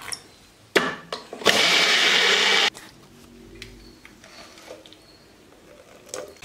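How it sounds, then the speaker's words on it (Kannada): A kitchen mixie grinder whirs loudly for about a second, grinding banana with soaked rice into batter, then stops, followed by quieter clinks and handling. "ಇವಾಗಕ್ಕೆ ನೀರು ಹಾಕಿ ನುಣ್ಣಗೆ ರುಬ್ಕೋಬೇಕು"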